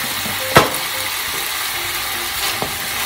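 Stir-fried bamboo shoots and pork with ginger in a pan as a little sesame oil goes in, a steady sizzle with a sharp pour-and-stir clatter near the start and a lighter knock later.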